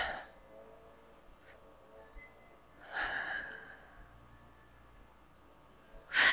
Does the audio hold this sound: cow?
no